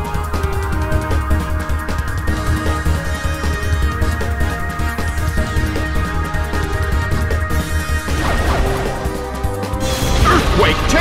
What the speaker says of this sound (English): Earthquake tears open the ground.